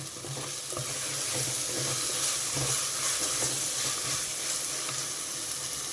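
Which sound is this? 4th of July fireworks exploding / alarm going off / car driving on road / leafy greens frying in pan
leafy greens frying in pan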